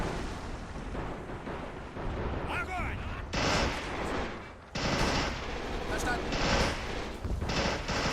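Anti-tank guns firing in the tank battle game Men of War: Assault Squad 2, Kursk 1943 setting, heavy booms and gunfire crackling densely throughout amid battle noise, with a voice talking over it.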